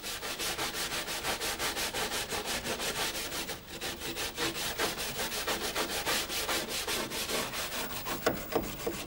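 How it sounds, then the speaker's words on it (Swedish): A steel wire brush scrubs surface rust from a metal wall in a car's engine bay, producing a loud, rapid rhythmic rasping stroke after stroke with one brief pause. "Men sen putsar vi också bort all ytrosten med en stålborste."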